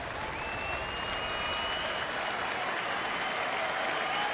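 A baseball stadium crowd applauds and cheers for the Texas Rangers against the Detroit Tigers, a dense, steady roar of clapping that stays loud throughout, with a faint tone running above it.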